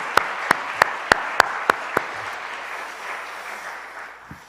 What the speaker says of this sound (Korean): 우리 한번 감사의 박수 한번 할까요?